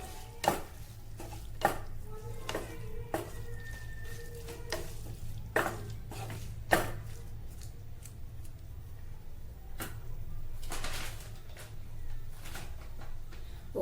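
Boiled mutton tripe is mixed in a pan in a home kitchen, with irregular sharp knocks and scrapes of a spoon against the metal over a faint background sizzle, close and moderately quiet, with no talking.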